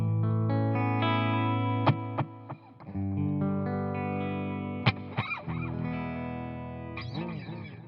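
An electric guitar plays through the auto wah effect of a Boss Katana MkII amp, sustained chords and notes with sweeping, swelling filter tones and sharp plucked attacks, loud and close throughout.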